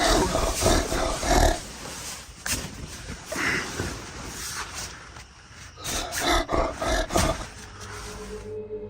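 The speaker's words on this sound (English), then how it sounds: "that sounds like a bear, like for real" Deep, rough growls come in repeated bursts, loud and close, with rustling and thumping movement between them.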